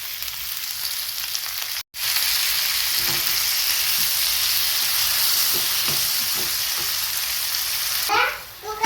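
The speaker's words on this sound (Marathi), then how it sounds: "खूप छान असं फ्राय झालेलं आहे आपलं टोमॅटो" Tomatoes fry in a pan for tomato chutney, giving a steady, close sizzle that runs almost the whole time, with a brief cut near the start, scattered stirring clicks and a louder spluttering burst at the end.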